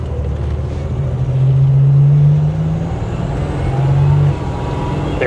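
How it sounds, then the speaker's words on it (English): A Buick Grand National turbo engine runs nearby in a steady low rumble, with a strong drone swelling for about a second, fading, then briefly rising again. "There's that turbo."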